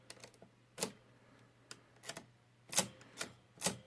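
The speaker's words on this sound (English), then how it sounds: "Notice when I push down on the 4 key, it pushes down so far, and then this bar will come down." Keys of a 1904 Model A Comptometer mechanical adding machine are pressed down, producing a series of sharp mechanical clacks and clunks at irregular intervals, close and crisp against a quiet background.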